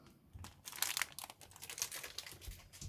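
Plastic bag holding 1/35 scale Meng Warrior model tank tracks crinkles in irregular bursts for three seconds, close and fairly quiet.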